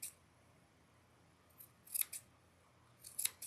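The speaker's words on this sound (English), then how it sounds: "trimming with these big scissors" Big scissors trim a fluffy doll wig, giving a few crisp, sharp snips in quick clusters against near silence.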